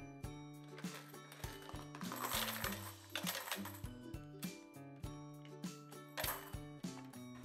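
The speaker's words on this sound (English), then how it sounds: "lift the hopper up and dump the coins out" Coins pour out of a Money Controls coin hopper being tipped and emptied, a dense run of metallic clinks and jingling rattles in uneven bursts, loud and close, with no talking.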